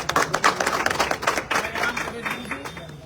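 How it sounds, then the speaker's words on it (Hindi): An audience at an AWPL gathering in Azamgarh claps for its mentor Ankur Guru Ji, a dense, steady patter of many hands close by that carries on for the whole stretch under a background voice. "हमारे ग्रेट मेंटर्स हमारे अंकुर गुरु जी के लिए एक शानदार तालियां हो।"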